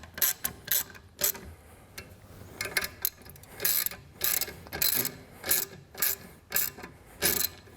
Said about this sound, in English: 9/16 ratchet. Tighten those guys down.